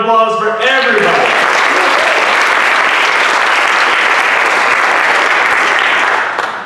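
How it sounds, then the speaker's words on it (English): An audience in Marietta's Strand Theatre breaks into loud, sustained applause at a big check ceremony, dense clapping that fills the room for several seconds after a brief spoken announcement. "A big round of applause for everybody."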